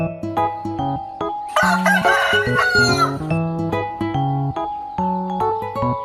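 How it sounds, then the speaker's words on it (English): A rooster gives one loud, drawn-out crow lasting about two seconds over steady background music. "chicken,"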